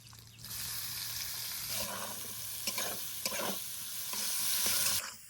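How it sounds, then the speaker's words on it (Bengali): Chopped onion sizzling in oil left from frying crabs, a steady hiss that swells as it is stirred, with scraping strokes in the pan and no voices. "এবার ওই কাঁকড় ভাজা তেলতে দিয়ে দিব হচ্ছে পেঁয়াজ কুচি"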